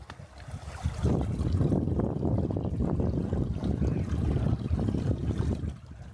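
A stream runs through a snow-covered valley beside a sculpture park, its water rushing in a steady, broadband wash that swells after the first second and holds at moderate loudness without voices.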